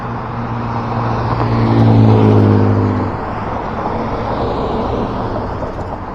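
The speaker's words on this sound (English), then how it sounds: "They sound like they're sporty and like they're going really fast, but then they get closer and they're just really loud and going kind of slow." Loud cars pass along a road, heard from the roadside: an engine drone swells as a vehicle draws near, peaks around the middle and fades, with steady traffic rumble continuing behind it and no talk.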